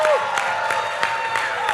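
Awards ceremony audience applause at the Caribbean Global Awards: a steady round of clapping and crowd noise with a few louder hand strikes standing out, brief cheers mixed in, held at an even level.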